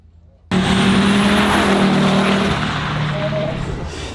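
A race car powered by an Audi engine, formerly run with a Wankel rotary and a five-cylinder Volvo engine, roars past at close range at Gatebil in Norway, loud and sustained with a steady high engine whine that fades slightly.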